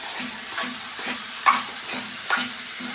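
Mushroom curry gets mixed in a pan, a regular scraping stir repeating about every half second over a soft sizzle, with a couple of brighter spoon knocks.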